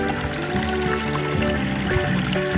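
A small stream on a forested mountain in Zile runs steadily with bubbling, trickling water, close and continuous throughout, with no talk.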